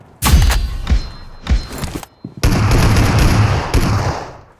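Gunfire in a close-range 2v2 video game fight: several sharp, booming shots in quick succession, then a longer burst of rapid fire. All of it is loud and close, with no talking over it.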